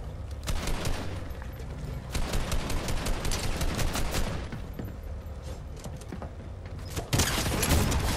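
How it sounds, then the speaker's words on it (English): A combat shotgun in Fortnite fires in rapid, loud bursts with dense, overlapping gunfire close up, a sustained stretch of shots ending in a heavier blast, with no talk. "the combat shotgun is doing the god's work"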